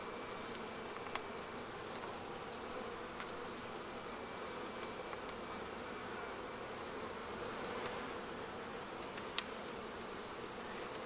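Honeybees buzz at an open hive in a dense, steady hum that fills the air at moderate volume, with individual bees passing close now and then.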